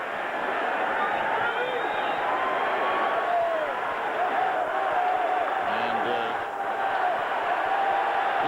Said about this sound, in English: Listen to this crowd as they get up and out of their seats.